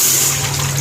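Water is poured into a pressure cooker on the stove for cooking black chickpeas, a short, loud, continuous splashing pour close by.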